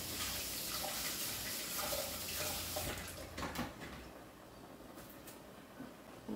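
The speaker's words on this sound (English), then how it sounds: "Washing my scallion." Running tap water splashes steadily into a kitchen sink while scallion is rinsed under it, a continuous close wash with small clatters and drips as the flow shifts partway through.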